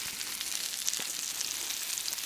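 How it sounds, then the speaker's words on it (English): Zucchini slices in batter fry in hot corn oil in a frying pan, giving a soft, steady sizzle with faint crackles and pops, close by and with no voices. "Stuck them in there, threw them in a frying pan"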